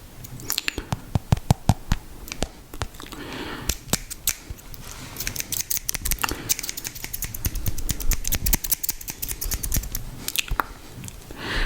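Scissors snipping close to the microphone in a soft, intimate setting, a long run of crisp, irregular clicks and snips, some in quick bursts and others spaced apart, with no talking.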